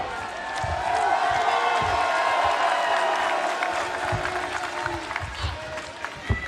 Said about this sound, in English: Crowd coming alive for the Mack